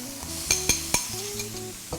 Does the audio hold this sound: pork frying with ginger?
yes